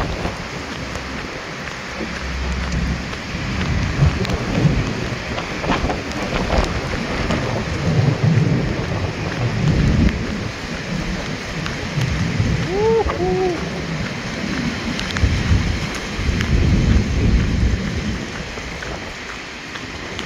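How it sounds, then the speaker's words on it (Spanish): Heavy night-time thunderstorm over a city, with steady pouring rain and repeated low rumbles of thunder rolling in and out, while a person talks over it. "alegría de noche bajo una gran tormenta. Vean los rayos"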